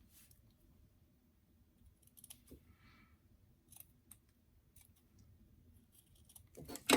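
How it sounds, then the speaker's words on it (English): Scissors snip at the corners and seam allowance of a small doll dress, a scattering of quiet, crisp clicks at irregular intervals over near silence, with a louder snip at the end. "all I'm going to do is clip the corners so that I can get a nice crisp corner, and trim the seam allowance a little bit"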